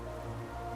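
Steady rain downpour in the video game Hollow Knight Silksong, a dense continuous patter filling the short moment on its own, with no talk over it.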